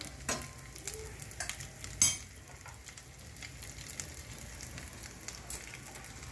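Cauliflower curry stirred and fried in a pan, a soft low sizzle under occasional scraping strokes and one brief utensil clink, fairly quiet with no speech.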